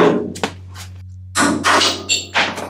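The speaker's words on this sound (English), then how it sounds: "grab a hammer" Several sharp hammer strikes on a metal car part while mounting a Panhard bar, spaced irregularly with short pauses, close up over a low steady hum.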